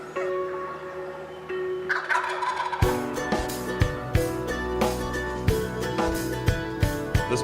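A wild turkey gobbler gobbles in Morgan County, Georgia during a spring hunt, with a quieter stretch giving way to loud, repeated gobbling bursts in quick rhythm.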